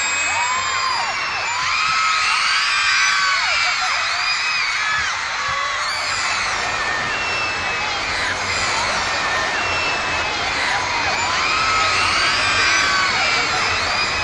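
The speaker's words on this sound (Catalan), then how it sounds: "els ciutadans que comencen a corejar els crits d'independència" A large crowd of Catalan citizens chants and cheers pro-independence slogans continuously, loud and dense, with overlapping whoops and shouts as presidents come and go.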